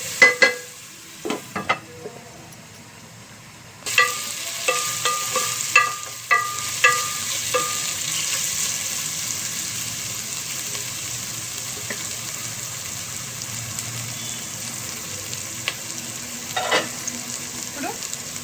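Ginger garlic paste frying in a pan for Hyderabadi egg biryani, a steady close sizzle running throughout with a few scraping stirs and clinks near the start, no voices.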